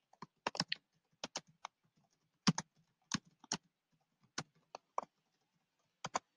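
Computer keyboard typing to change a headline: sparse, crisp key clicks come in small clusters with quiet gaps between them, close and fairly faint against a silent background.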